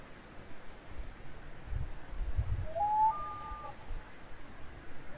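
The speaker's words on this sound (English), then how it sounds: "Sounds like a bird." Out on a hiking trail, a bird gives one short whistled chirp midway through, faint against a steady airy hiss and a few low rustling thumps.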